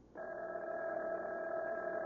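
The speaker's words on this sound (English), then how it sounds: "There's the phone." A telephone rings in a CBS Radio Mystery Theater drama. One steady, buzzing ring starts abruptly and holds evenly, alone and fairly quiet.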